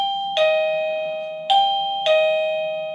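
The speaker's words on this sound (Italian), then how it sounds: "avete sentito che ha suonato il din don" A Tuya smart WiFi alarm kit doorbell chime rings out clearly, three bright ding-dong tones in quick succession, each ringing and fading in an otherwise quiet room.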